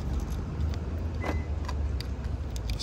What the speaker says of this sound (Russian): Еще раз проверяем ключики.